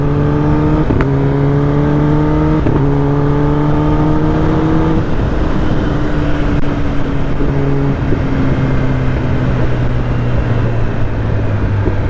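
Royal Enfield Himalayan motorcycle engine on a good road during a group ride, loud and close, revving up in repeated steps as the throttle is twisted, with a constant rumble and wind noise throughout.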